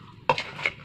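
A spoon mixes mango pickle in a bowl, giving a few close, bright scraping clinks in quick succession with no talk.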